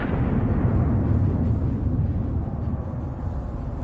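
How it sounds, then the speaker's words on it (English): An anti-tank mine blast destroys a vehicle near a frontline trench, heard as a heavy, loud, rumbling roar that holds for several seconds and slowly fades. "an anti-tank mine suddenly shattered all of the Russians' plans"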